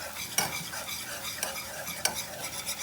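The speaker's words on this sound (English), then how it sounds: "On this pan we put some olive oil, we will saute the onions." Onions sautéing in olive oil in a pan, a soft continuous sizzle close by with a few quick utensil scrapes against the pan.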